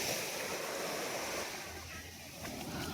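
Surf washing onto the beach at Kanyakumari, a steady broadband rush of breaking sea waves mixed with wind buffeting the microphone, continuous throughout.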